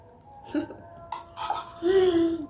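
Light clinks and a scrape of metal as avocado is scraped off a spoon, with a soft drawn-out squeak near the end, fairly quiet and close.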